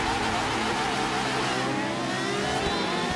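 A red matte Ferrari in a Ferrari versus Lamborghini sprint race game, its tyres spinning as a loud engine revs and pitch sweeps upward throughout, with a voice talking over it.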